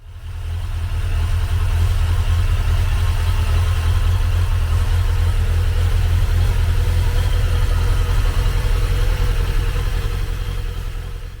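A Suzuki GSXR 1100 motorcycle engine runs at a steady low idle after starting, a constant deep throbbing drone that holds for about eleven seconds with no voices.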